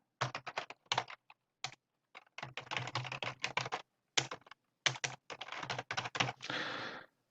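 Keys tapped on a computer keyboard in bursts of quick clicks, with heavier single presses of the spacebar and ESC key, close and fairly quiet with short pauses between runs.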